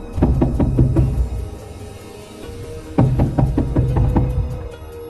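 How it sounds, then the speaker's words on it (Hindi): Loud knocking on a door for a horror story, a fast burst of hard raps, a pause, then another rapid series, close and unaccompanied. "वो रोज रात में घर घर जाके जोर से दरवाजा खटखटाती है"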